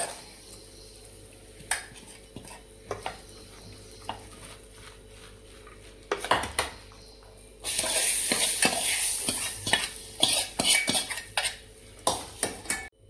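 Tempering stirred into eggplant bharit in a pot, with clinking spoon taps against metal, a burst of sizzling midway, and repeated scraping strokes close by, no talking.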